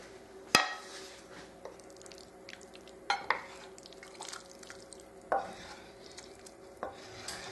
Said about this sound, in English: and then add the vegetable mixture that we prepared earlier